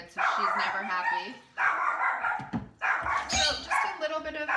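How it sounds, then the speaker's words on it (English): A house dog barks in loud, close bursts at another dog outside in the neighborhood, with a brief gap between the first volleys and a busier spell of yipping barks afterward. "Oh, my dog's barking."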